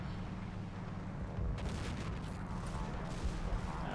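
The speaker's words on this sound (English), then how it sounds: "We've got some rounds bouncing off the front of the Panther there from that 6-pounder" In the Combat Mission wargame, 6-pounder anti-tank rounds strike and bounce off the front armour of a Panther tank, heard as booming impacts and gunfire against a steady battle rumble, with a sharp burst partway through.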